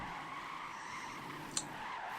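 Sustained tire squeal from a drifting car with a heavy, low-revving tank engine and 1,600 foot-pounds of torque, a steady high screech held throughout with one sharp brief spike near the end.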